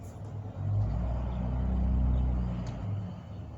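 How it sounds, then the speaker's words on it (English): A big truck rumbles past outdoors, a low heavy engine drone that swells and holds for a couple of seconds before easing off, with faint background ambience and no talking. "So I hear a big truck again."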